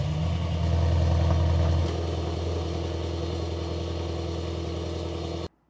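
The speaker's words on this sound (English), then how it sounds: "it starts the engine at a higher RPM, so it creates a little bit more of a louder exhaust" A 2026 Mercedes-AMG GLS 63 SUV fires up in emotional-start mode at raised revs, a loud deep exhaust burst that settles into a steady rumbling idle before cutting off abruptly.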